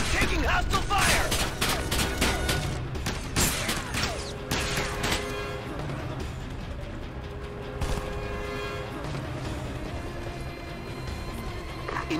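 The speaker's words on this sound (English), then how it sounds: "Captain, taking hostile fire!" Gunfire in the video game Ghost Recon Advanced Warfighter 2 during a convoy ambush on the outskirts of Ciudad Juárez, with dense, rapid shots and crashes under radio chatter, loudest at the start and continuing as a sustained firefight.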